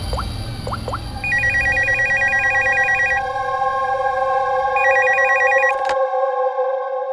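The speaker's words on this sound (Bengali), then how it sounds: "স্টোর ম্যানেজারকে ফোন করছি।" A telephone rings with repeated electronic trills in an office-like setting, steady and fairly loud, then cuts off abruptly when answered.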